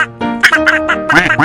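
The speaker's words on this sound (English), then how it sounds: "The duck in the pond quacks" A duck on a pond quacks in a quick series of loud, nasal, close calls. The sound is bright and may be voiced or stylized.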